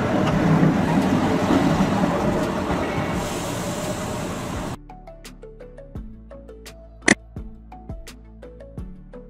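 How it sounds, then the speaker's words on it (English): A railbus, a bus built to run on railway tracks, rolls along with a dense steady rumble for several seconds. It then gives way to sparse rhythmic wheel clicks over rail joints and one sharp loud clank, with no voices. "Railbus, a type of bus designed to run on railway tracks"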